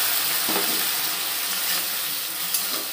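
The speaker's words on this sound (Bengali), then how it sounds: "আমি একটু সর্ষে বাটা দিয়ে দিলাম" Okra sizzles in hot oil after mustard paste is added, making a dense, steady frying hiss close by, with faint stirring scrapes and no speech.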